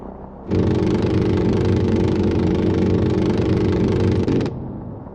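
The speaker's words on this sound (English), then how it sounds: "Friendly helicopters entering the area." A loud, steady mechanical drone of helicopter engines and rotors swells in suddenly, holds evenly for several seconds, then cuts back to a quieter hum.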